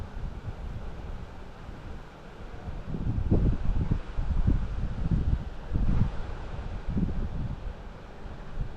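Blustery outdoor wind buffeting the microphone during a DJI Mini 3 Pro drone flight, a continuous low rumbling roar that swells in heavier gusts through the middle, with no talking.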